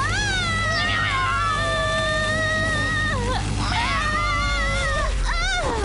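A cat meows repeatedly with drawn-out, rising and falling cries, close and fairly loud over a low background hum.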